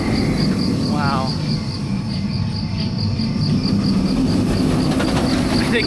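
An amusement park train ride at Kings Dominion rumbles in a steady loud wash, with a high insect-like rhythmic chirp pulsing throughout and a brief whistle-like tone, while a voice talks over it.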